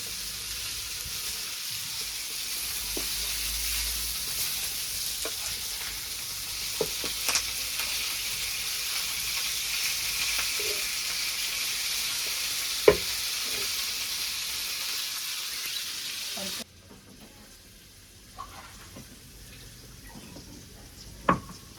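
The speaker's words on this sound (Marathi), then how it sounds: "आपल्याचे बागडा फ्राय झालेले आहेत." Bangda fish (mackerel) coated in masala, garlic and rava frying in a pan, a steady close sizzle with occasional crackles and faint clinks, dropping to a quieter hiss near the end.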